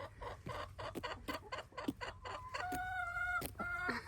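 Several chickens cluck and murmur close by while pecking at a carved pumpkin, with short irregular clucks throughout and a few sustained higher calls near the end, no talking.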